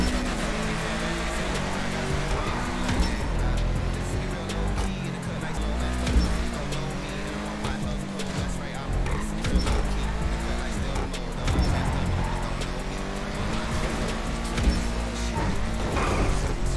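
BMW M2 in GTA Online racing along at steady speed, engine revving up and down with harmonics shifting through gear changes, mixed with game music or effects and a talking voice throughout.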